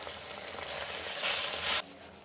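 Hot water poured into a sizzling wok of frying turmeric, coriander and chilli powder gives a bright, loud hiss that swells briefly, then drops back to a steady sizzle, with no voices.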